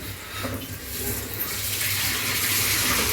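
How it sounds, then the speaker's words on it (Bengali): Tap water runs steadily while beef head meat is washed in a kitchen, a continuous rushing flow that grows a bit louder and brighter partway through. "আমি এদিক দিয়ে এই যে মাথার মাংসটা পরিষ্কার করি"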